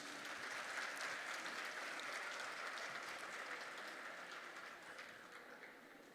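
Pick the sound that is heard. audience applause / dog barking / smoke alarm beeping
audience applause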